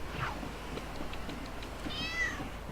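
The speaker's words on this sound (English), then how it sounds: "This cat's very low down, don't know why he couldn't just jump off himself" A cat meows several times in the Lego City Undercover video game, short mews followed by a longer wavering cry, set over a faint game background.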